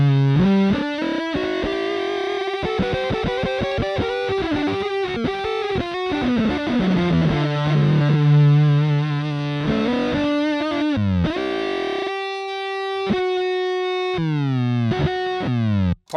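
Beetronics Swarm fuzz pedal on an electric guitar, a thick chaotic buzzing distortion with fast-tracking glitchy pitch swoops and stuttering octave jumps, loud and continuous with brief chopped gaps near the end.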